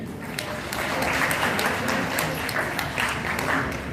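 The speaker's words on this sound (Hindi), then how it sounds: "तालियां हो जाएं" Applause from a gathered village crowd at an outdoor 79-kund Gayatri havan ceremony, a loud, dense wash of clapping sustained throughout, with some voices mixed in.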